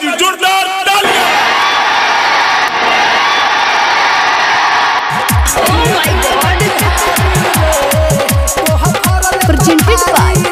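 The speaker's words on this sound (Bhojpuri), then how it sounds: "जोरदार तालियां" A packed audience at a live Bhojpuri stage show in Motihari district roars and cheers loudly, then a thumping rhythmic band beat kicks in midway and carries on under the crowd noise.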